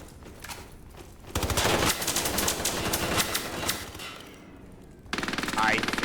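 Rapid automatic gunfire in a first-person shooter video game comes in loud sustained bursts with short gaps, and another sharp burst breaks in near the end.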